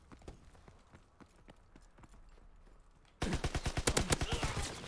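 Gunfire in Call of Duty WW2: faint scattered shots at first, then a sudden loud rapid burst of automatic fire with closely spaced cracks, close and dominant.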